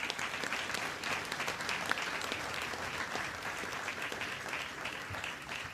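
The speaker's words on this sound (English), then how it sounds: "please give our soldiers, again, a round of applause in this day" A crowd at a U.S. Army Medical Command relinquishment ceremony gives soldiers a sustained round of applause, dense and steady clapping filling the hall for several seconds.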